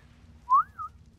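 A single rising-and-falling whistle from a player character issuing a command to a tamed creature in the survival game Ark Survival Evolved, two linked tones over a low ambient game backdrop, clear and alone.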